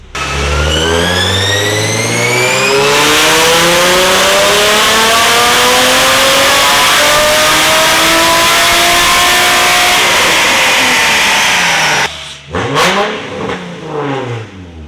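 A Nissan 350Z with an HR engine and cold air intake on a dyno pull, roaring loud and close as it climbs steadily through the revs, then dropping off sharply and settling into an uneven idle.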